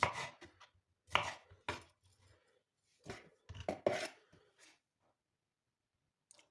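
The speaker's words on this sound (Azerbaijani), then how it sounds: "Belə doğrayanda, baxın əziz izləyicilər, daha da yaxşı doğranır." A knife chops bell pepper on a board in irregular bursts of quick, crisp cuts, close and clear, separated by short pauses and ending with a faint tap.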